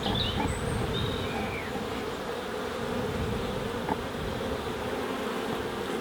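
Honey bees in an open hive box hum in a thick, steady drone during swarm-prevention inspection, a close, continuous buzz with no talk.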